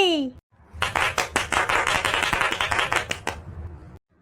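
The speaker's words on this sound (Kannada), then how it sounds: "ಎಲ್ಲರೂ ಚಪ್ಪಾಳೆ ಹೊಡಿರಿ ಚಪ್ಪಾಳೆ ತಟ್ಟಿ" Children in a cartoon school Independence Day celebration clap for a song: a quick rising tone, then a burst of rapid, dense clapping lasting about three seconds, close and loud, ending abruptly.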